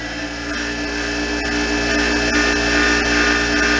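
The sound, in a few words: new 6 inch bench grinder running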